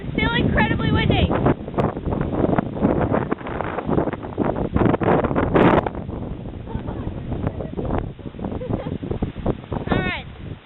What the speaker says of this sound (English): And it is still incredibly windy.